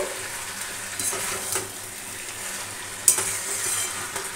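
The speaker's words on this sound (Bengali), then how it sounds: "আগে একটু নাড়াচাড়া দিয়ে নিই, নাহলে মশলাটা পুড়ে যাবে" A ground spice paste sizzles in a hot pan while a spoon stirs and scrapes through it, with a few soft clinks against the metal, steady frying in close view with no talk.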